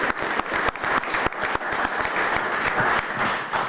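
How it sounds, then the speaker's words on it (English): Audience at a Homer Glen board meeting claps steadily for several seconds, a dense, even round of applause with no voices over it. "let's give them a round of applause anyway"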